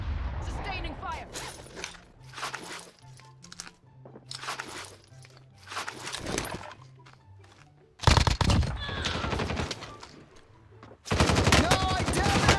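Sustained automatic gunfire from Call of Duty Warzone: rapid, dense bursts that grow loud and near in the second half, with game music and talk earlier on.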